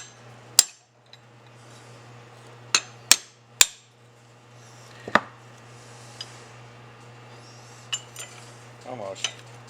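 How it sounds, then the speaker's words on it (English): Screwdriver tapping around a copper tubing valve, a handful of sharp metallic clinks spaced irregularly over a low steady hum, close and distinct. "we take the screwdriver, just angle a little bit, and a few taps around"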